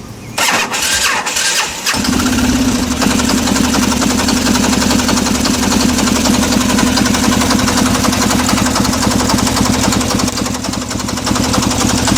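A loud diesel motorcycle engine starts after a couple of seconds of rattling, then runs at a steady, rough idle close by.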